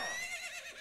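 Phantom Ganon's horse in Ocarina of Time lets out a short, faint whinny, a quick wavering neigh that fades out within a second.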